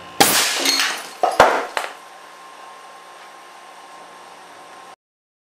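An air cannon fires an 80-grain glass marble at 300 psi into a ceramic plate: a sharp shattering crash, followed by two more clattering impacts of falling shards, then a fading ringing tail before silence.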